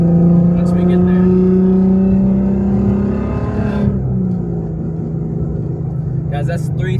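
A Volkswagen GTI engine hums loudly and steadily near 3,000 RPM, then its pitch eases down as the revs fall away, with faint sounds toward the end.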